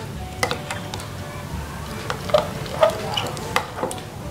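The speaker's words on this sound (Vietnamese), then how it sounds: "Các em cứ tiếp tục khuấy như thế này cho keo sữa đều lên." Milk glue and water being stirred together for slime, giving soft, sticky squelches and light taps of the utensil against the bowl in irregular strokes, close and fairly quiet.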